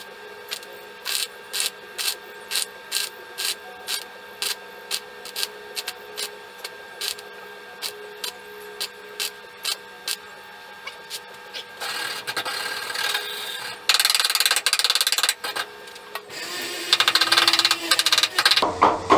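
Sheet metal on a Citroën 2CV body being welded gives a regular series of short crackling bursts, then longer continuous sizzling stretches toward the end, close and fairly loud.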